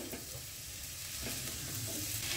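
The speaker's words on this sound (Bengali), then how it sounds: "হাই ফ্লেমে একটু নাড়ি, তাহলে তিলটাও আমাদের একটু ভাজা হয়ে যাবে।" Faint, steady hiss of potatoes and sesame seeds sizzling in a pan over high flame, with soft scraping as they are stirred.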